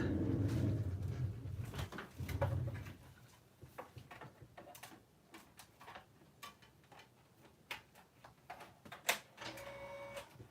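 Craft cutting machine feeding and running, a steady motor whir with rapid mechanical ticks, clicks and short servo chirps, close and moderately loud with no talking.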